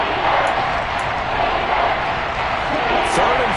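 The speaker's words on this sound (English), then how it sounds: "This crowd urging on their defense. They're up and making noise." Stadium crowd noise in a Madden NFL football video game: a loud, steady roar of spectators urging on the defense on third down, continuous throughout with a few brighter whistle-like peaks.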